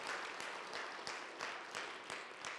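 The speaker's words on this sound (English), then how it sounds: "Give the Lord a hand clap right there." A church congregation claps along in a steady rhythm, faint and distant, the even claps repeating about every third of a second.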